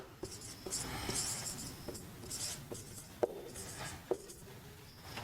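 Writing a chemical formula on a board, a soft scratchy scrawl broken by several light taps of the writing tool, quiet and close with no talk.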